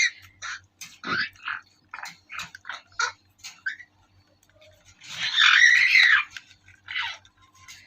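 A pet parrot squawks noisily in a string of sharp, close calls, with a louder, longer burst of screeching near the end.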